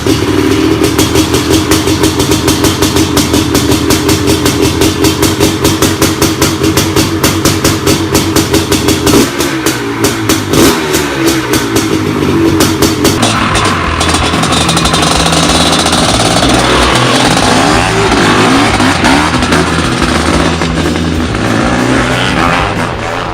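A Honda CR500 two-stroke motorcycle runs loud and close, its engine revving hard with a rapid, rattling pulse and then shifting into a rougher, varying roar, with no one talking.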